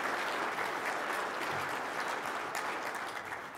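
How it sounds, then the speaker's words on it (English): An audience at a forum applauds the New York State Teacher of the Year, an agriculture teacher from Cuba-Rushford, with sustained, even clapping from a sizable crowd heard at moderate distance. "That's a round of applause."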